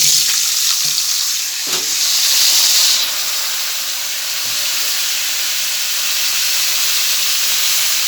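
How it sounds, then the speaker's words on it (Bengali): Pointed gourd (potol) pieces frying in hot oil, a steady loud sizzle and hiss with occasional stirring clatter, no voices. "পটলগুলো তেলের মধ্যে দিয়ে দেবো, একটু ভেজে নেব।"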